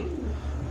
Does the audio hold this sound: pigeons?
yes